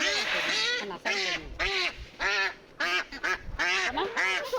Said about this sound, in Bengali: এগুলা হচ্ছে ক্যাম্বেল হাঁস, মানে যেই হাঁসে অনেক ডিম পাড়ে আর কি।